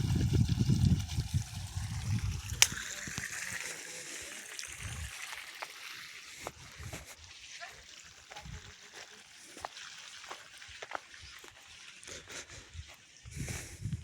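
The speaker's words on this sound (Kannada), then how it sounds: "ಈ ಲ್ಯಾಂಡ್ ಪಕ್ಕದಲ್ಲೇ ನೋಡಿ ಬೋರ್ ಓಡ್ತಾ ಇದೆ, ನೀರು" Water runs from a borewell beside agricultural land near Ooty Road, Begur: a faint, steady trickle in the background, with a low rumble at the start and scattered small clicks and knocks.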